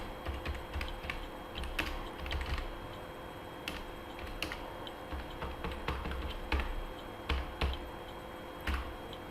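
A computer keyboard is typed on while entering ledger details in Tally Prime. The keystrokes come in quick, close, fairly soft bursts with brief pauses between them, and nobody speaks.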